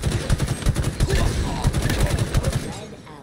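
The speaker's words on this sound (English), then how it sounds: "It's that assault rifle that doesn't feel good." Rapid bursts of assault rifle fire in Halo, a string of sharp repeated shots over about three seconds, loud and close, with game noise and some voices mixed in.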